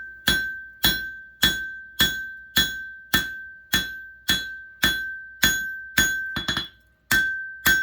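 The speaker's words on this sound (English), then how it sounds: "think about what the anvil's doing on the bottom while I'm hammering on the top" A hammer strikes metal on an anvil while a knife choil is sharpened and shaped, a steady series of about a dozen bright ringing blows at a regular rhythm, loud and close, with no talk.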